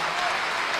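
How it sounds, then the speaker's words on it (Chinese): A brief, dense burst of audience applause at a Deyunshe crosstalk comedy show, a steady wash of clapping from a full house with no gaps. "可以鼓掌了"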